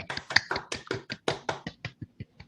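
Audience applause after a presentation: a dozen or so separate claps spaced across a couple of seconds, sparse and fading out, with no voices.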